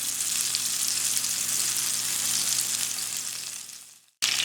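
Gola kebabs frying in a pan give a steady, close sizzle with a constant hiss that fades toward the end and cuts off briefly before resuming, with no talking.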